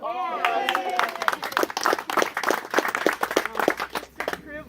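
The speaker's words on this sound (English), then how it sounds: "Give a cheer." A small gathering of relatives at a woodland preserve celebration claps and cheers, with a voice at first and then rapid scattered handclaps and whoops filling the rest.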